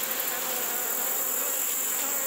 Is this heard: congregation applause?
no